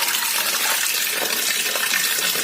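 Water runs steadily from a tap into a kitchen sink while chicken meat is rinsed, a close, continuous splashing gush without pause and without voices.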